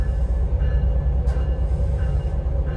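A TriMet WES commuter rail train rumbles steadily with a deep, continuous low roar and faint metallic clatter of wheels on rails, close and loud.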